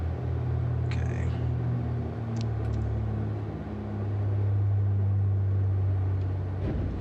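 A Beechcraft Baron 58 twin piston aircraft in a flight simulator rolls along grass after landing: a continuous engine drone over a loud, steady rumble from the rough ground.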